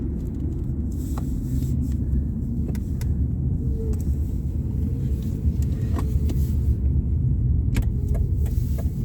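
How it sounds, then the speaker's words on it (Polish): A rear-wheel-drive car with bald tyres drives toward a roundabout during a driving exam, its engine and road rumble a loud steady drone from inside the cabin, with a few faint clicks over it. "Zbliżamy się do ronda. Przypominam, że samochód jest wyposażony w tylny napęd."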